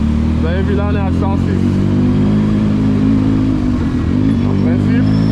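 A motorcycle engine drones steadily while riding on the road, a low constant hum with faint revving; no one speaks.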